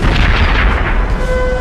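Napoleonic-era cannon, 74 guns in a barrage on the Waterloo battlefield, roar in a dense, continuous rumble. The booms overlap into one loud, sustained wall of sound.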